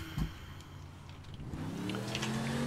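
A car engine in the game APB accelerates while driving, a steady mid-pitched hum that rises in pitch and grows louder toward the end, with no talking.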